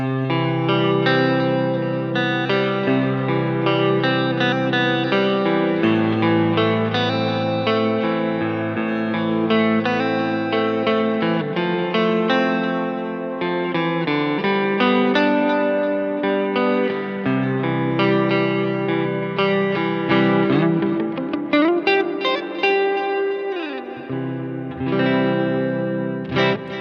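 An electric guitar run through parallel delay and reverb effects plays sustained chords and notes drenched in echoing delay and lush reverb, with lingering tails and a swelling, washed-out texture, no talking.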